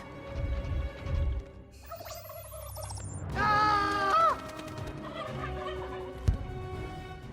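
Turkeys gobbling in the animated film Free Birds: several warbling gobble bursts rise in the middle, with bird calls and clatter before and after, fairly close and moderately loud.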